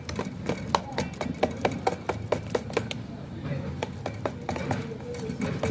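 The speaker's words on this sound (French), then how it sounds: "Donc je mélange pour que ça s'intègre bien." Beignet batter being mixed by hand with sugar in a bowl on a plate, giving a steady run of quick clicking and tapping strokes from a utensil against the dish, close up over a low room background.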